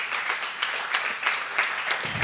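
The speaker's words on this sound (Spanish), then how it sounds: "Dame aplauso al Señor" A church congregation applauds during a Spanish-language sermon: a brief stretch of steady, moderately loud clapping from many hands, fairly even in rhythm, with no talk over it.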